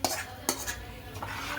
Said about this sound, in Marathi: आता आम्ही टाकतोय ते सगळी फोडणी.